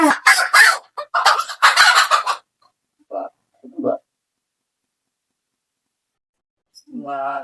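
A few short hen clucks, sparse and close, following a stretch of talking, with quiet gaps between them and one longer cluck near the end.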